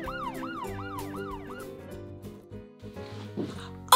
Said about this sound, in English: Oh, that siren is so loud.